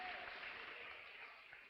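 Church congregation clapping together in a continuous, even roar of applause, heard at a moderate distance and fairly quiet, fading slightly toward the end.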